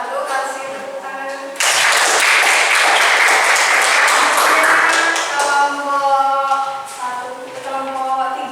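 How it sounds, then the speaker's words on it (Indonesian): Applause breaks out in a high-school physics class in Indonesia for the group 1 presenter, a dense burst of many hands clapping that starts suddenly and holds steady to the end, with voices murmuring underneath. "Kasih tepuk tangan."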